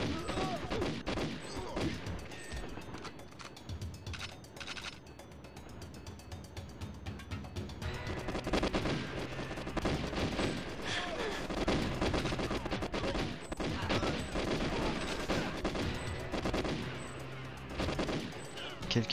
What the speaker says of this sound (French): je vais essayer avec mon petit flingue